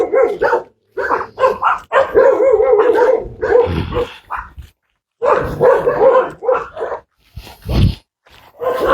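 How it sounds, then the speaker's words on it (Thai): A dog barks repeatedly and loudly nearby on a rural road leading to a forest temple, with short bursts separated by brief silences and a yip near the end. "เจ้าสุเห่าซะแล้ว"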